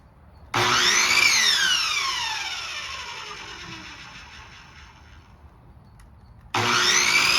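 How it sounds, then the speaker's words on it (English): A power saw bites into a wooden 4x4 post with a loud whine that sags in pitch as it works through the cut, then winds down, and a second cut starts abruptly near the end. "Now to cutting the 4x4s."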